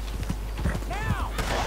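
Horse hooves clip-clop in Red Dead Redemption 2, a quick rhythmic patter running under game sounds, with a brief whinny-like sweep partway through.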